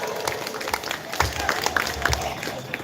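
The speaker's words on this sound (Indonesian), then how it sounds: "Saya minta tepuk tangan dulu dong untuk Gamaca malam hari ini ya" An audience applauds at an evening Ramadan patrol sahur performance by a youth group in Bantimurung. The clapping is moderate and scattered, with sharp individual claps over a busy crowd murmur.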